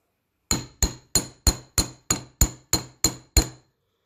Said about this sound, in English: I'm going to use the flat end of the hammer to flatten out the bottom part of the wire to make the paddle